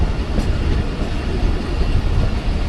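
The 47 Up Rehman Baba Express approaches Lala Musa Junction with a loud, close rumble and rhythmic wheel clatter over the rails, a short steady run with no voices.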